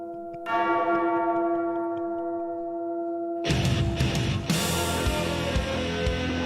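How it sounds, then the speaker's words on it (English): Church bells toll loudly and alone, one long ringing strike sustaining before a second, brighter clang joins in a dense, resonant wash. "Like the bells."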